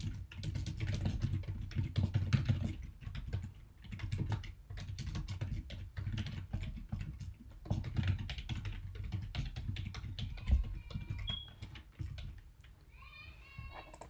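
Fast, steady typing of Java code on a computer keyboard, dense rapid key clicks close to the microphone that continue for the whole stretch with only brief pauses.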